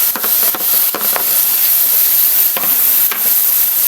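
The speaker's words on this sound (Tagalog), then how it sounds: "Sabayaan muna natin siya dyan ma-fry ng kaunti." A hotdog sizzles and fries in a pan while sopas is being made, giving a steady close hiss with a few stirring scrapes throughout.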